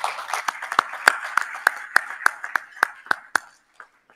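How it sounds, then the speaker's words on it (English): A handful of sparse, distinct claps ring out one by one at an awards ceremony in Doha, spaced irregularly like a small scattered audience, tapering off before falling silent. "Thanks for that kind applause."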